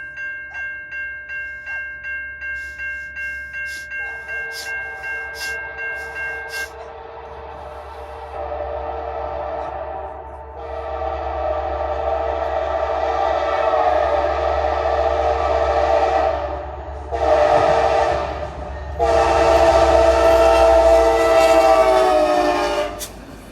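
CSX passenger train led by CSXT 1 at Hopkinsville, Kentucky, sounding a loud horn in repeated pulses, then long sustained blasts over the steady rumble of passing railcars.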